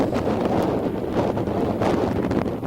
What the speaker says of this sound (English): The wind is blowing, so it's hard to keep still.